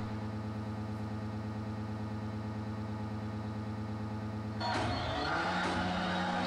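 A BMW car in the racing video game Fast & Furious 6 on iOS holds a steady, even engine drone, then surges into a louder rev with rougher texture in the last couple of seconds.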